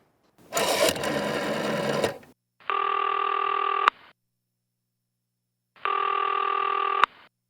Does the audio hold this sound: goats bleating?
no